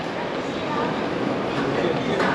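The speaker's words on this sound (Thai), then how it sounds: "เราอยู่ในสถานีรถไฟประเทศจีน" A steady, loud rumbling roar fills a busy train station in China, with indistinct crowd murmur blended into the constant noise.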